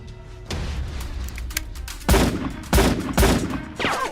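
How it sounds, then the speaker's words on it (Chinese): Sniper gunfire sound effect in an animated action scene: several sharp, loud shots in quick succession, each a broadband crack with a booming tail, following a softer blast near the start. "狙击手开火！"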